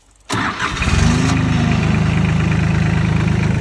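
A four-wheel drive vehicle's engine cranks and catches abruptly after a moment of quiet, then settles into a loud, steady idle heard up close.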